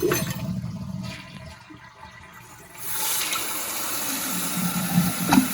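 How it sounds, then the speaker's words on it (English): A toilet flushes after its handle has been replaced, with a loud rush of water that briefly eases and then swells into a steady, close refill surge, ending with a few splashy drips. "the project of replacing the handle so that it flushes properly"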